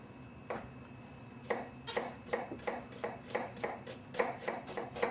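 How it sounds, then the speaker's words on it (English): An onion is chopped finely with a knife on a board, producing about a dozen crisp, fairly quick, evenly spaced chops close by, with no talking. "You try to chop the onion very finely in order to not to feel it in your mouth when you eat it."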